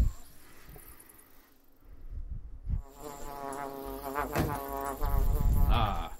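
Buzzing bees drone in a VR cartoon game, a thin wavering insect hum rising and falling in pitch, quieter at first then growing louder and busier with bursts of clatter.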